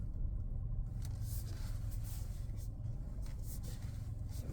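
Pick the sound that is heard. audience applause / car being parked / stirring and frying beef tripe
car being parked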